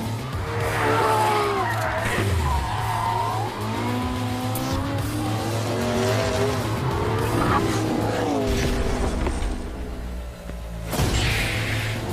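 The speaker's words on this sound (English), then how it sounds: "And here comes May in the Ferrari, Concentrating." A Ferrari sports car engine revving and accelerating nearby, tires squealing, with the loud roar rising and falling as it drives past.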